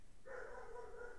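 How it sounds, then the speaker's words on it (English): A single faint, drawn-out dog bark or yelp sounds far off against a low background hum. "I don't know if you can hear my dog barking in the background"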